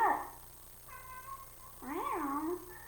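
A pet cat named Cyrano meows several times, a short high call followed by longer, wavering, drawn-out meows, close by with faint background hum.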